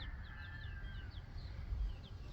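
Game hens and a rooster on a small backyard farm cluck in short, repeated chirping calls over a low rumbling background, moderately close and fairly quiet.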